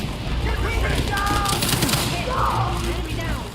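Dense, sustained gunfire from the video game Battlefield 6, rapid overlapping shots with a heavy rumbling low end, loud and continuous throughout.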